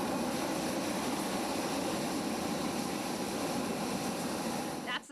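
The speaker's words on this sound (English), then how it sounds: "That's the sound of just one of a dozen hot air balloons soaring to new heights over Siskiyou" Hot air balloon burner at the Montague Hot Air Balloon Fair in Siskiyou County, one of a dozen balloons, roaring in a steady, broad, loud rush for about five seconds before cutting off abruptly at the end.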